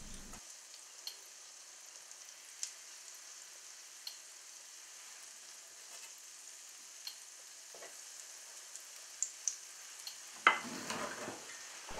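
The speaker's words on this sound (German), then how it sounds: "Die Teiglinge, die werden jetzt nur bei niedriger Hitze angebraten." Apple fritter dough pan-frying over low heat in oil or clarified butter, a quiet steady sizzle scattered with small sharp pops and crackles, growing briefly busier near the end.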